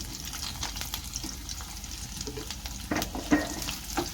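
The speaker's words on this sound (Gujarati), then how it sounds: "ગેસની ફ્લેમ સાવ મીડિયમ સ્લો રાખી અને પનીરના ટુકડાને આપણે ફ્રાય કરી લેશું" Paneer pieces shallow frying in oil over a medium-low gas flame, a steady soft sizzle with faint stirring scrapes and a couple of louder crackles near the end.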